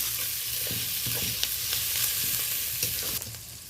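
Onion, green chili and garlic sizzle loudly in hot oil with tempering spices while being stirred, a continuous close frying hiss broken by soft scraping strokes of the spatula.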